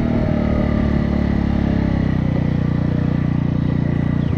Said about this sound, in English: You can see the bike still sounds good. It's not too loud. It's got that nice deep tone to it.